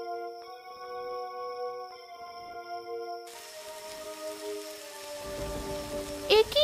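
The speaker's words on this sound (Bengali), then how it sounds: "এই অসময়ে আবার বৃষ্টি শুরু হলো কেন?" Rain begins in an animated fairy-tale scene on a mountain: a held musical tone gives way to a sudden wash of steady rainfall, growing denser and heavier toward the end, with no voices.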